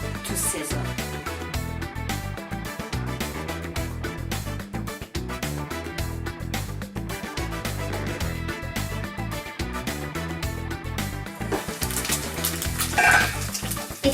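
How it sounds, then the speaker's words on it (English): Steady sizzling and frying of sausage and onions in a covered pan, a continuous crackling hiss with occasional clinks of cookware, no voices. "We cover it up and we leave it to sizzle."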